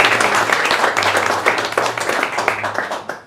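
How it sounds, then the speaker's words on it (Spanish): Audience at a metal-scene panel discussion claps loudly and continuously for a few seconds, a close, dense burst of applause that fades at the end. "Un fuerte aplauso."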